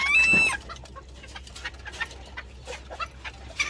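A Barbu d'Uccle bantam, a small bearded chicken breed, gives a loud burst of clucking up front, followed by scattered faint clucks and rustles nearby.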